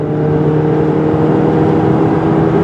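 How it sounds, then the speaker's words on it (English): A 2017 Jeep Compass engine groans steadily under hard, floored acceleration, a loud droning hum with a low whir holding constant throughout, heard from inside the cabin with no talking. "Then that engine is going to groan."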